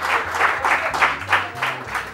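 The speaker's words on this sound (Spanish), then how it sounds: "Aplauda bien, por favor" The studio audience of a Spanish television show claps in a steady rhythm, with a regular beat of hand claps over a pulsing bass line of music.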